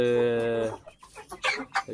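Peruvidai country chicken, naturally raised, clucking up close in a few short bursts, starting with a drawn-out call and then choppy, uneven clucks.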